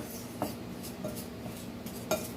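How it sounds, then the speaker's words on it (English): Butter is creamed into sugar in a mixing bowl for mini applesauce muffins, with a few sparse, fairly quiet clinks of a utensil against the bowl over low background noise and no talk. "So you kind of have to squash the butter into the sugar."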